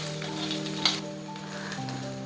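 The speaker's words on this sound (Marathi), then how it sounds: "अद्रक आणि लसूण थोडंसं परतून झालं का मग मी त्याच्यामध्ये कांदा टाकणार आहे" Ginger and garlic sauté in a pan for chhole, giving a steady, soft sizzle with one brief clink near the start.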